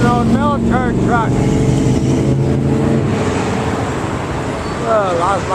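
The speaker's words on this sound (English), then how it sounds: "There's an old military truck." An old military truck drives past at a car show, its engine a loud, steady rumble close by, while voices talk over it.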